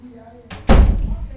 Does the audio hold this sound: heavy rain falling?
no